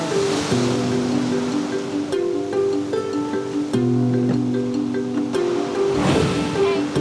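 Surf breaking at a crowded summer beach in Jeju during a swimming ban for high waves, a steady broadband wash running throughout with tonal voices and announcements layered over it.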